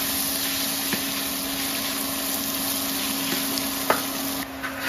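An iron wok of vegetables keeps up a steady low sizzle over a quiet hum, broken by a few faint spatula clicks and taps.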